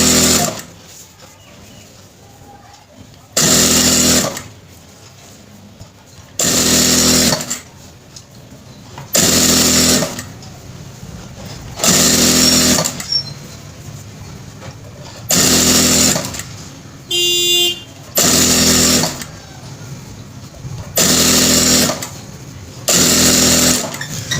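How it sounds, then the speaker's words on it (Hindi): Sewing machine stitching fabric for a kapron dress hem and sleeve design, running in about eight short loud bursts separated by pauses, with faint talk between runs. "इस तरीके से मुकम्मल प्रॉपर हम सिलाई लगाएंगे।"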